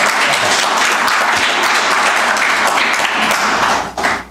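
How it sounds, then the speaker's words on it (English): Dense, steady applause from an audience at a county commission meeting, filling the room continuously for about four seconds before tapering off briefly near the end. "so we'll give him a round of applause"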